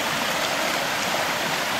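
A stream in Massachusetts woods runs high after heavy rain, giving a steady, close broadband rush of flowing water with no break and no talking.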